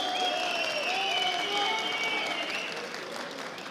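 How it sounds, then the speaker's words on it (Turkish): A crowd at a tractor auction at a fair in Konya breaks into loud, continuous applause with whistles over the clapping, fading slightly toward the end. "Bravo büyük bir alkış"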